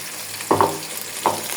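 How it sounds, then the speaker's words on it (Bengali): Small onions, cinnamon, cardamom and bay leaves fry in hot oil with a steady sizzle, broken by a few brief clatters of a spoon against the pan. "পেঁয়াজ দিলাম, ছোটা পেঁয়াজ, দারুচিনি, এলাচ, তেজপাতা দিয়ে দিলাম"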